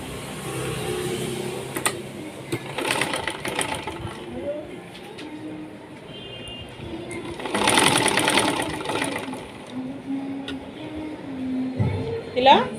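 A sewing machine runs in stitching bursts as a lined blouse is sewn, its rapid mechanical whirr starting and stopping, with someone talking over it.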